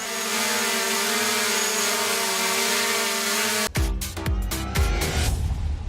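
A small umbrella drone hovers with a loud, steady, even buzzing whir for several seconds, then a burst of sharp clicks and knocks breaks in over the motor noise.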